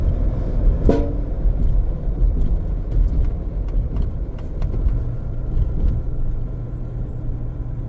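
Vehicle traffic at a Saudi border crossing makes a continuous rumble of idling and moving engines, with one short car horn toot near the start.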